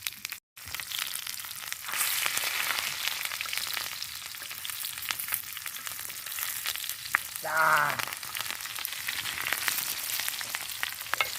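Leaves frying in a pan before fish is added, outdoors in village seafood cooking, a steady bright sizzle running throughout with occasional stirring scrapes and crackles.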